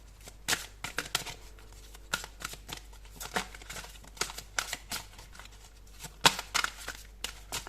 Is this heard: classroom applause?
no